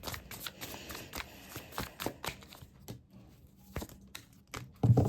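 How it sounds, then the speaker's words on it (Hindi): Tarot cards shuffled by hand in a series of quick, close riffling and flicking bursts, with a louder knock near the end. "Let me shuffle the card, pile number 2।"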